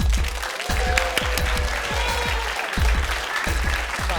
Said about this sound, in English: You clap for your man?